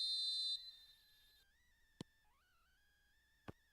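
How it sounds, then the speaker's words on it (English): Referee's whistle in a PES football video game, a loud steady blast at the start, then a softer falling and rising tone, broken by two sharp clicks. "There's the whistle."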